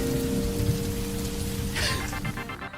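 Rain falls in a steady, even patter with a faint low hum running underneath, and no voices are present.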